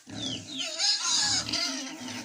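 Piglets on a farm grunt and squeal in a rapid, close burst of snorts and higher rising cries, clear and up front with no talk over them.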